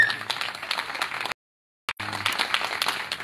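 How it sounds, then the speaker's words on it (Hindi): An audience at an outdoor devotional gathering in Gassotti Gaon, Saharanpur, breaks into dense, continuous applause, with many hands clapping at once, broken by a brief dropout in the middle before the clapping resumes. "इनके लिए ताली बजाओ, इतना बढ़िया"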